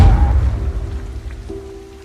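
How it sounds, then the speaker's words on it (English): Heavy rain drumming steadily on a car roof, a dense low rumble that fades slightly over a couple of seconds. "Listening to the sound of the rain drumming on the car roof"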